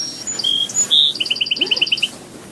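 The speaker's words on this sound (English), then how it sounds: "Yeah, it's a sparrow. It's a song sparrow." A song sparrow sings nearby: a few clear whistled notes followed by a fast, even trill, loud and alone.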